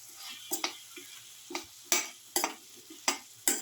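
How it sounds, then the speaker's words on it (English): Okra pieces sauteing in a pan for a garlic beef okra casserole, a quiet sizzle broken by regular scraping stirs and light clicks of a utensil against the pan, close up and without talk. "Keep on sauteing"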